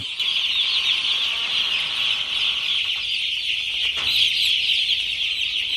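Dense high-pitched peeping of many one-day-old chicks on a poultry farm fills the whole stretch, a steady chorus with brief flurries and no voices.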